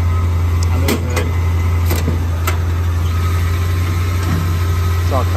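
Crate V8 of 496 or 502 cubic inches in a custom 1938 Diamond T truck, idling as a steady low rumble with a constant hum, close and fairly loud, with a few brief clicks and knocks over it.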